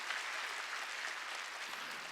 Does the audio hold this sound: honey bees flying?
no